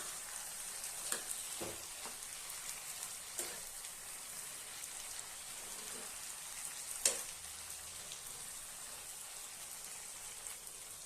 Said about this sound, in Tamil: கொஞ்சமாக லைட்டாக பிழிஞ்சு விட்டுட்டு மறுபடி நல்லா பெரட்டி விடலாம்